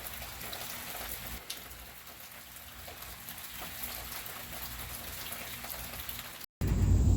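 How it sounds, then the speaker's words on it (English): Steady rain patters down across a surface at a Kentucky farmhouse under renovation, a dense even hiss of drops with no voices, cutting off abruptly near the end. "it starts raining"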